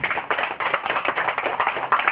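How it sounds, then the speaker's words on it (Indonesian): Brief bursts of hand clapping from a seated audience at an Arminareka business partnership presentation, uneven and close, lasting only a couple of seconds with no voices over it. "Tepuk tangan dong Bapak untuk Armina"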